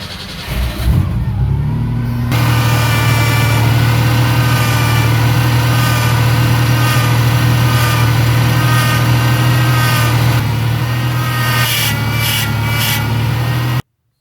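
A Ford engine idles steadily with its power steering pump running after a Seafoam TransTune treatment, giving a continuous close hum with a faint whine. It starts abruptly and cuts off at the end.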